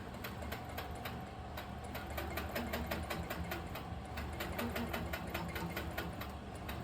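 A quilting machine starts stitching across a loaded quilt, running a fast, steady mechanical needle rhythm with regular ticking beats, close and continuous.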